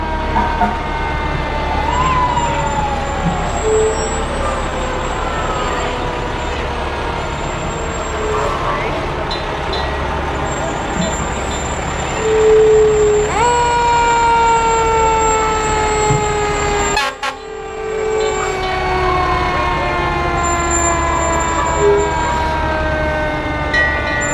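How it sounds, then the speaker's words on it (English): Ladder truck number 61 of the Heartland Area Fire Department passes in a Fourth of July parade in Brighton, Michigan, its wailing siren rising and falling repeatedly with a loud horn tone over the street crowd, and a voice talks throughout. "Here comes the ladder truck number 61 from the Heartland Area Fire Department"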